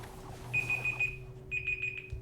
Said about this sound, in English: Never mind the alarm.